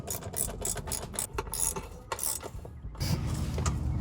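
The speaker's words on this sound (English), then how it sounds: "we're gonna tighten up these transmission bolts" Transmission bolts are tightened with a ratchet during an engine install on a Mercedes SL500, giving a series of quick, close clicking and ratcheting bursts with short pauses between them.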